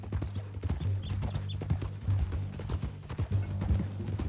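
Horse hooves clip-clop in an uneven, continuous rhythm at moderate distance in the video game Red Dead Redemption 2, with a low background hum and faint voices.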